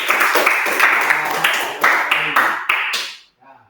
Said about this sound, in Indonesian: Tepuk tangan yang mulia.